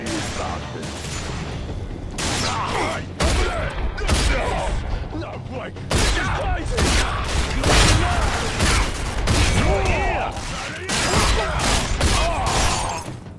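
Gunfire in the video game RAGE, including shotgun, pistol and crossbow, fills the scene with repeated sharp bursts and volleys in clusters, loud and close, while players talk over the action.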